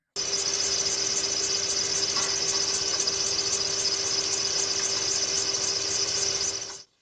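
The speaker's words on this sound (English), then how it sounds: "my car has a belt noise or squeaking problem" A continuous high-pitched squeal from a slipping engine belt on a running car engine, steady and fairly loud, cutting off abruptly at the end.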